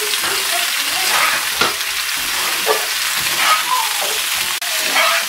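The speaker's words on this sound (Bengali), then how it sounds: "ভেজিটেবলস গুলোকে কিছুক্ষণ এভাবে করে নেড়ে নিতে হবে, নাহলে লেগে যাবে।" Boiled vegetables, broccoli among them, sizzle steadily in a hot pan while a spoon stirs them, with scraping strokes recurring every second or so over a constant frying hiss.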